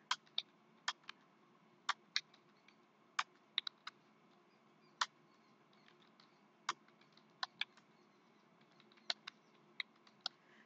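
Keys are typed on a computer keyboard in quiet, irregular bursts of sharp, soft clicks, sometimes singly and sometimes in quick pairs, with no other sound.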